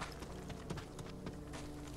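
Horse hooves clopping in Ghost of Tsushima, a steady run of soft, muffled hoof falls close by, set against a constant bed of game ambience.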